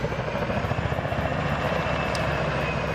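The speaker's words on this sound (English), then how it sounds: "Helicopter flying super low, though." A video game helicopter's rotor thumps in a fast, steady pulse under a loud engine whine, sounding close and low overhead with no voices.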